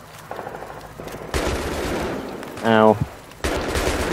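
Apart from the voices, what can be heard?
gunfire in the video game Battlefield 3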